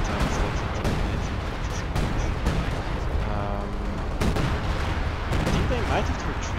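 Assault artillery fire in a video game clan match, a dense continuous barrage of booms and gunfire blasts with repeated sharp bursts, loud and close under a steady game soundscape.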